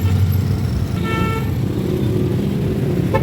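Heavy road traffic crawls along a busy main road in Karachi, a close, loud rumble of engines with short car horn toots breaking through near the middle and end.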